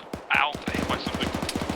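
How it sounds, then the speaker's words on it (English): AK rifle fire in ArmA 3, a rapid stream of sharp automatic shots at a steady rhythm, with a brief shouted voice near the start. "AK fire to the north."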